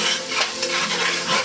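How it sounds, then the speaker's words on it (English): Onions frying in a pan while being stirred, a bright continuous sizzle with scraping stir strokes pulsing through it, close and fairly loud with no talking. "Fry your onions."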